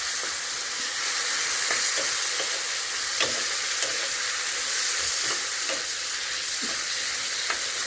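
Tomatoes sizzle and fry in a pan while being cooked for kinamatisang dilis, a continuous crackling hiss broken by occasional stirring clicks and small pops.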